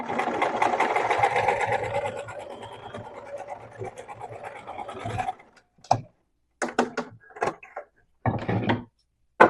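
A sewing machine runs a continuous half-centimetre seam on a fabric piece laid right side to right side, whirring steadily for about five seconds, then stopping and giving several short bursts of stitching separated by pauses.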